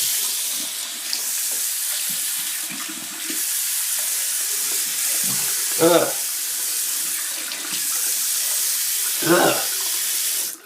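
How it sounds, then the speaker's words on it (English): Water runs steadily from a bathroom tap at the sink, a continuous close hiss with a couple of brief gurgling swells as a mouth is filled with water. "it's time to fill one's mouth with water"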